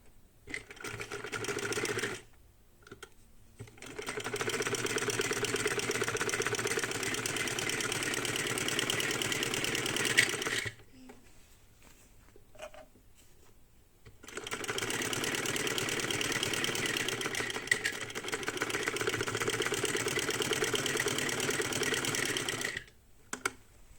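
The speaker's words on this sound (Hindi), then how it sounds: "मजबूती के लिए मैं इसमें डबल सिलाई कर लेती हूँ।" A sewing machine runs close and steady in long bursts, double stitching a collar, with two brief pauses between runs.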